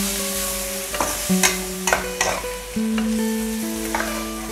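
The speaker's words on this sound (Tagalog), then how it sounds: "Igisa po lang natin mabuti." Green chili and string beans sautéed in a pan for pork Bicol Express, a steady close sizzle broken by clanking stirring strokes, with a tonal hum in the background and no talking.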